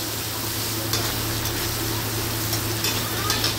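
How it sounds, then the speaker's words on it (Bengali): Pointed gourd pieces frying in a pan over lowered gas while being stirred, giving a continuous dense sizzle with soft scraping stir strokes throughout, close and fairly loud. "এই গ্যাসটা একটু কমিয়ে দিয়ে পটলগুলো নেড়ে চেড়ে ভাজতে থাকবো।"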